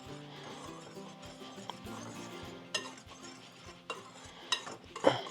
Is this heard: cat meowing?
no